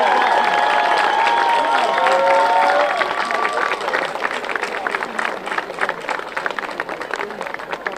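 At a university commencement ceremony, an audience breaks into a dense wash of applause and cheering for the graduating class of 2025, swelling after a brief voice and carrying on loudly to the end.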